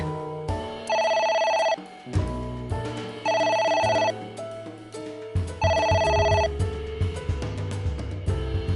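In AI: The Somnium Files, an in-game phone rings three times in regular bursts over game music, with no talk over it.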